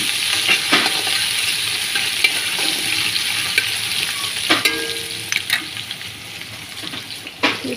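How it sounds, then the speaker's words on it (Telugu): Ginger garlic paste fries in a hot pan with a bright, steady sizzle, broken by scattered spoon scrapes and clinks as it is stirred. "పచ్చివాసన అయినంత వరకు వేయించుకోవాలన్నమాట"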